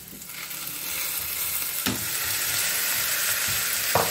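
Minced meat sizzles steadily in a pan on a gas stove, a dense continuous fry with a few louder pops and clicks of stirring, close and alone without voices.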